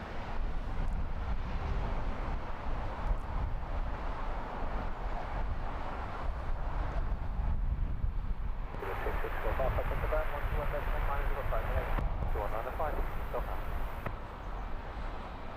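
A British Airways Airbus A320-200 arriving from Vienna lands at Heathrow Airport, a steady broad roar of jet engine and rushing air that swells louder partway through, with talk in the background.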